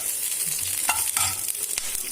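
Garlic and green chilies sautéing over a high flame, a steady close sizzle with a few scraping stirs, and no voices.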